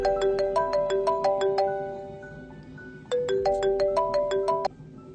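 A melodic phone ringtone plays a short repeating chime phrase twice, with a brief pause between the two bursts. It is clear and fairly near, with no talk over it.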